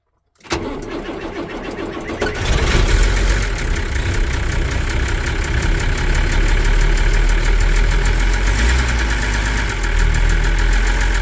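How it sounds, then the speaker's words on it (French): A warm car engine cranks briefly and catches on the first try, then settles into a steady, loud idle with a slightly knocking, throbbing rhythm, close to the microphone with no talking. "il a quand même beaucoup moins de mal à démarrer hein"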